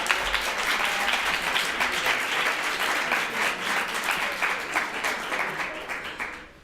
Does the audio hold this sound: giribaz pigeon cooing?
no